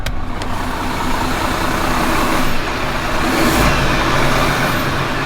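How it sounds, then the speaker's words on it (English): A 2023 MAN TGX 18.520 Euro 6e truck engine cranks and settles into a steady, loud diesel idle heard close up, with a low continuous rumble and no talking. "let me start it up just to give you guys a sound of the engine"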